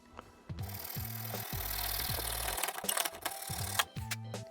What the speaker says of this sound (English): If you have a vise, you can put this thing in the vise, then use a metal saw.